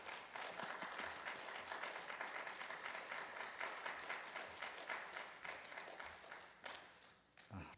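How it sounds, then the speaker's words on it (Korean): Church congregation clapping to welcome the pastor at a Wednesday worship service, a sustained warm round of applause that holds for about seven seconds and then thins out, fairly faint in level. "우리 목사님 나오실 때 우리 환영의 박수로 함께 목사님을 맞이하겠습니다"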